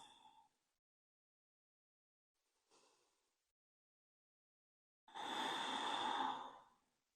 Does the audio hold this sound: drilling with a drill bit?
no